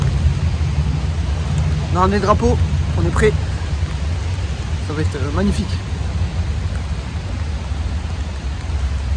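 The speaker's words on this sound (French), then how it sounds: "Il pleut quand même un petit peu, ça c'est chiant." Rain falls steadily at an outdoor athletics stadium in Budapest during the world championships, a constant loud wash of hiss under people talking in French.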